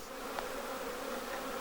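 Honey bees buzz steadily around hives at an apiary in Signes, where thyme and rosemary flower in spring, a continuous faint hum with no voices.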